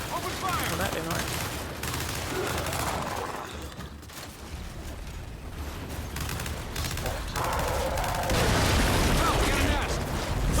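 Gunfire and explosions from the Gears 5 campaign, a dense, continuous barrage of shots and booms with some speech mixed in, swelling louder near the end.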